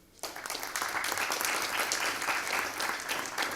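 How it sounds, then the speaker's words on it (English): An audience at an IIT Delhi digital library session applauds the organizing team, steady dense clapping starting abruptly and sustained at moderate level throughout. "I think a big round of applause to the team IIT Delhi."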